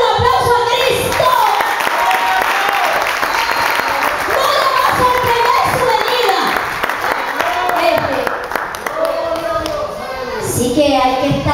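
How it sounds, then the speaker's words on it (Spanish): A church congregation claps during a Sunday service, loud rhythmic hand clapping mixed with many voices calling out and cheering, including children's voices, sustained over about eleven seconds. "dale un aplauso a Cristo"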